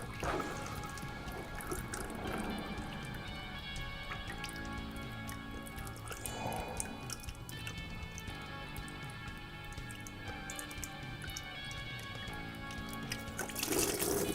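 Coolant drains from a Vulcan 750 motorcycle's cooling system into a bucket, a steady trickling and dripping stream running close by for the whole stretch.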